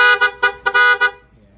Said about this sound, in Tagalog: PAA horn